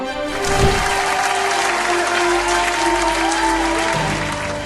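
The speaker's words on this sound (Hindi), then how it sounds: "जोरदार तालियां" Audience applause for a gospel singer's performance on a televised singing competition: sustained, dense clapping that rises quickly and holds steady and loud throughout, with no talking over it.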